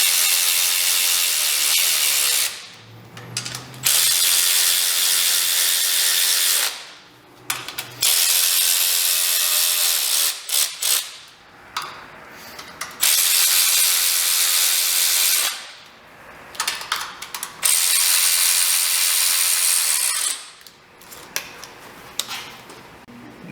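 A wrench tightens the intake manifold bolts on a Ford SVT Contour in a crisscross pattern, producing long, loud, close runs of rapid ratcheting separated by short pauses.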